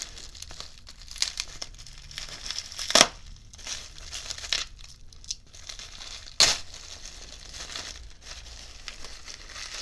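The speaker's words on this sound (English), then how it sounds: "taped up bubble wrap" Taped-up bubble wrap is pulled open on a package from eBay, with close crinkling and rustling throughout and a few sharp tearing rips of tape.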